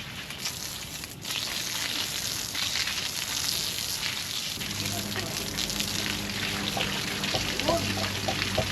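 Tap water runs into a plastic washbasin in a small backyard garden, a steady rushing splash that deepens and fills out partway through as the basin collects water, with faint background hum throughout.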